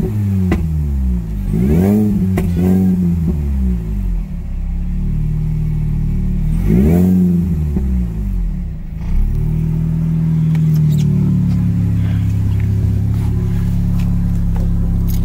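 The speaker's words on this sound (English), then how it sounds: "Give her a couple revs." An R53 Mini Cooper S engine, heard close and loud, idles and is blipped twice, each rev rising sharply and falling back. It then settles into a steady, throaty idle.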